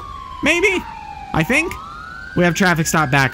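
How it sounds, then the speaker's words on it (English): A police car siren wails in the LSPDFR game, sweeping in long rising and falling tones close and loud throughout, with someone talking over it in short bursts. "I apologize about the siren"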